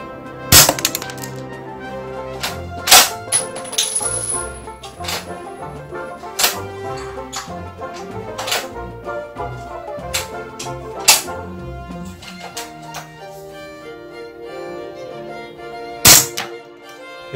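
A toy Kar98k gel blaster fires outdoors at two targets, giving sharp isolated cracks and thunks spaced several seconds apart, with a final distinct shot near the end over faint background hum.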